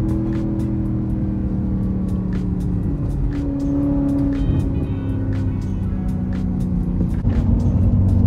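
The straight-piped exhaust of a Porsche Cayenne gives a steady, close, droning burble, with faint crackles and ticks scattered over the hum and a slight rise near the end.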